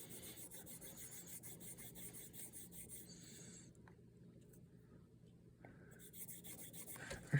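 A leather strop loaded with compound is rubbed against the inner liners of a Kershaw Chill 3410 knife, giving a faint, close scratchy rasping with short pauses.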